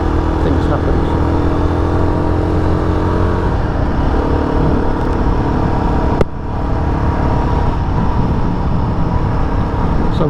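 A Royal Enfield Guerrilla 450 motorcycle on the road gives a loud, steady engine drone with strong wind rush, briefly easing off midway, while a rider talks over it.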